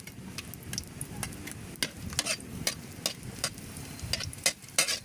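Ginger sautés in a pan with a continuous soft sizzle, while a utensil stirs and taps the pan in quick irregular clicks, close and fairly quiet.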